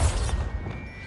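A Bombarda spell blast from Hogwarts Legacy lands as a single loud, booming thump with a crashing rumble that fades over about a second.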